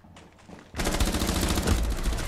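Rapid bursts of automatic gunfire from a Rainbow Six Siege match kick in loud and dense after a quieter opening, continuing in a sustained rattling volley.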